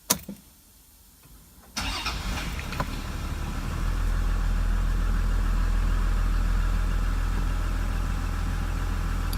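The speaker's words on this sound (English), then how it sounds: "So we're going to go ahead and start the engine now." A Toyota Land Cruiser 100 series engine cranks and catches after a quiet moment, then settles into a steady, loud idle that continues alone to the end.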